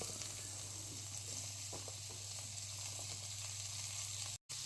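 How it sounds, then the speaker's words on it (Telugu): Bitter gourd slices fry steadily in oil in a pan, giving a constant sizzle and hiss with faint stirring scrapes. The sound is soft and unbroken, with a brief dropout near the end. "మనం ఈ కాకరకాయ స్లైసెస్ని ఇందులో యాడ్ చేసుకొని నీట్గా మిక్స్ చేసుకుంటూ ఫ్రై చేసుకోవాలి"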